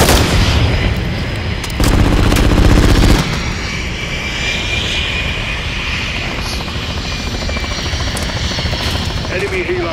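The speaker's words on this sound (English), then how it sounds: "Enemy helo's close." A close helicopter in Call of Duty: Modern Warfare 3 (2023) drones with loud rotor thumping and engine whine throughout, briefly overlaid by a burst of heavier booming noise near the start.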